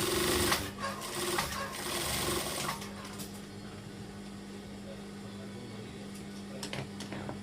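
Sewing machine stitching a Kasumedangan garment, a steady mechanical whir that runs close and continuous throughout, with busier handling noise in the first few seconds.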